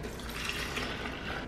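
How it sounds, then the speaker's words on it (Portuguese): Milk is poured into a blender jar already holding drained corn kernels for a corn cake, a steady continuous liquid rush filling the jar, close and without talk. "Agora vamos colocar o leite"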